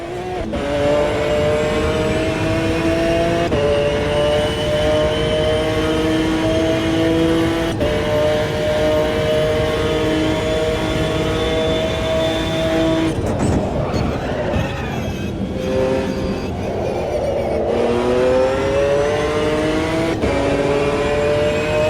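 Race car engine in Automobilista 2 held at high revs, a steady loud drone with layered harmonics, briefly dipping and climbing again as gears shift, close and continuous with no talk.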